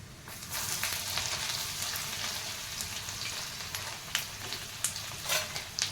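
Garlic, ajwain, cumin and asafoetida frying in oil in a pan, a steady close sizzle with a few sharp crackles and pops toward the end, no talking.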